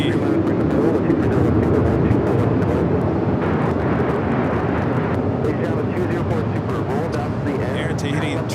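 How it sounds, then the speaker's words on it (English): An Air Tahiti Dreamliner takes off from runway 24 left on the north side of LAX, its loud, broad jet roar holding steady throughout while someone talks over it. "Air Tahiti Dreamliner heading to Papa Ete. Taking off here on the north side, 24 left."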